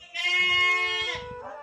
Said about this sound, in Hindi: ये है हमारी बकरी म्याँ माँ, मेरी माँ के लिए आवाज़ मार।